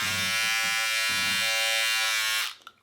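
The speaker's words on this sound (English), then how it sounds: "first up is the Norelco vacuum trimmer." A Norelco vacuum beard trimmer buzzes with a steady, high-pitched electric whine for a couple of seconds, close up, then cuts off abruptly and leaves only a faint click.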